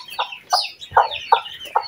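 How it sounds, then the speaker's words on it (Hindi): A desi hen clucks close by, five short, sharp clucks spaced about every half second, loud and clear with no talk over them. "देसी मुर्गी हमारी गिफ्ट आई हुई है, साथ साथ एक ये भी आई हुई है"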